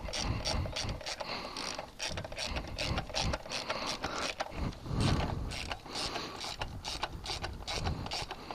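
Ratcheting clicks of a 5mm socket wrench tightening a Woodcraft frame slider bolt on a 2017 Yamaha FZ-10 (MT-10), a steady run of rapid close mechanical clicks with brief pauses throughout.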